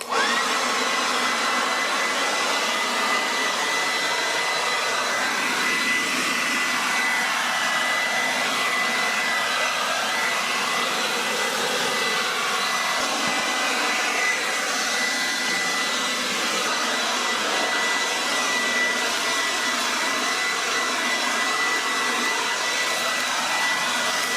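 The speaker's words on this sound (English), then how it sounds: "So let's see how well this blower does here." A SnapFresh cordless leaf blower clears palm tree debris outdoors with a loud, constant rushing whoosh that holds steady and close for the whole stretch, with no pauses and no voices.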